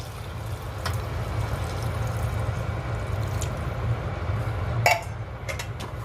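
Water poured into a pot of chilli con carne, a steady close splashing stream that runs evenly throughout, with a few light clinks of metal cookware near the end.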